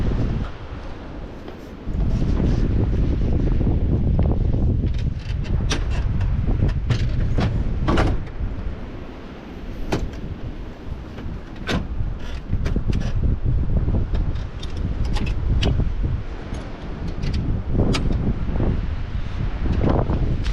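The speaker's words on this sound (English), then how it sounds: "It's pretty windy out today, so there could be some wind noise" Gusty wind on a cold, windy day buffets an outdoor microphone, giving a loud continuous low rumble that swells and drops, with scattered sharp crackles and no speech.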